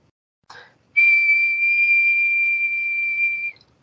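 A single sustained, steady whistled tone held for about two and a half seconds, loud and close, preceded by a brief breathy onset.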